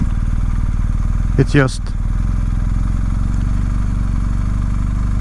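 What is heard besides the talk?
BMW 1250 GS motorcycle riding slowly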